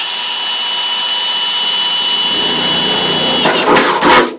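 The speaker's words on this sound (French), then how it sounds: "Tu perces la Kangoo. Voilà, tu as fait deux trous." A power drill bores holes into the body of a Renault Kangoo. A steady close whir runs throughout, then two short revving bursts rise and fall near the end, with no talking.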